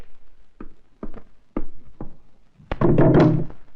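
Several firm knocks land on a wooden door in a tense Hindi film scene, spaced unevenly and close up, before a louder, fuller burst of noise at the end.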